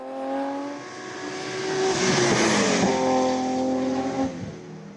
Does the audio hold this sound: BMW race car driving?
yes